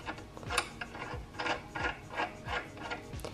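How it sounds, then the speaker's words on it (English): An open end wrench tightening the pedal nut on a UREVO indoor exercise bike, heard as a close series of rhythmic metallic ratcheting and rubbing strokes, about one every half second, with no talk. "we're going to tighten it with an open end wrench and screw in the nut on the other end"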